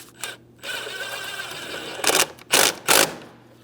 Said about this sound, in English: Tighten our 8mm headed clamp.